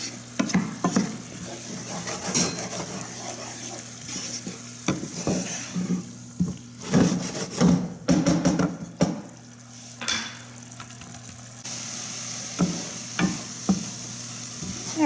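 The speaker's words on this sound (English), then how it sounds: "I'm just going to continue cooking this until all the liquid's gone." Food sizzles in a pan as half a cup of white wine cooks off, with frequent stirring scrapes and light clatter of utensil against the pan throughout.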